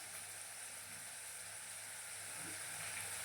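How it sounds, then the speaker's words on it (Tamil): Onions sautéing with salt for a bitter gourd stir fry, a faint, even hiss of frying that runs steadily throughout with a soft stir near the end. "வெங்காயம் வதக்கும் போது எப்போவுமே வந்து கொஞ்சோல உப்பு ஆட் பண்ணிக்கோங்க"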